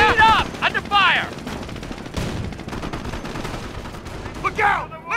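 Gunfire in the Company of Heroes World War II strategy game, with bursts of rapid rifle and machine-gun shots and explosions, loud and dense, alongside shouted unit voices.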